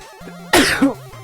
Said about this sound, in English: Oh, terrible time to sneeze.